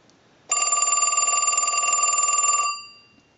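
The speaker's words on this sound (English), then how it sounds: "We'll use the analyzer and send it a ring cycle." A single loud burst of a Western Electric wood wall rotary telephone's bell ringing, a steady rapid clatter lasting about two seconds, then fading out, with nothing else around it.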